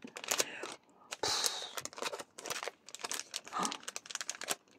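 Small paper envelopes from a parcel being torn and opened up close, with quick bursts of crinkling and ripping paper alongside soft handling rustles.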